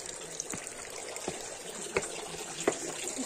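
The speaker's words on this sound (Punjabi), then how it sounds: "ਆਹ ਦੇਖੋ ਇੱਦਾਂ ਟੂਟੀ ਚੱਲਦੀ ਹੈ" A garden water tap runs steadily, its water used for watering flowers and plants, giving a continuous close splashing hiss with a few soft knocks and no voices.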